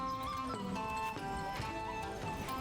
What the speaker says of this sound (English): Where's the horse?